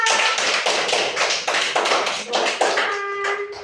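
Schoolchildren clap together in a brisk, loud burst of rhythmic claps, with an adult voice speaking over the applause.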